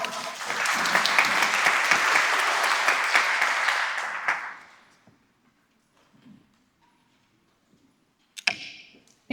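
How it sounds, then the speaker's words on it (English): Audience applause after a speech at a UN food systems event, a full burst of clapping for about four seconds that fades out, followed by near silence and a few faint thumps and clicks. "let's give her a round of applause for that amazing speech"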